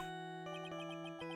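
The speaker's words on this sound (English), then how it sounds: "What kind of ringtone is that?" Cell phone ringtone in the Phoenix Wright: Ace Attorney – Trials and Tribulations video game, a steady electronic tone with bright, repeating chime notes pulsing over a sustained drone, loud and alone.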